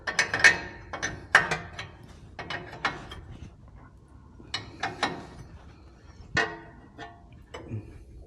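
A wrench ratchets and clanks while a tie rod on the front end of a 1958 Oldsmobile is loosened: sharp metallic clicks and clunks in irregular bursts, close and fairly loud.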